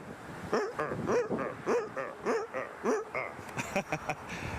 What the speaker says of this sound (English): I think it's the hydraulic pump that's being recharged there on the 320 when you hear that.